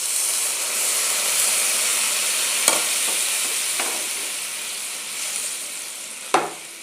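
Starfruit chutney paste fries and is stirred in a pan with a steady, close sizzling hiss, punctuated by a few sharp scrapes and clicks of the spoon.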